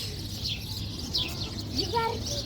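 Pigeons at a zoo give soft chirps and coos among outdoor crowd noise, with a voice faintly mixed in.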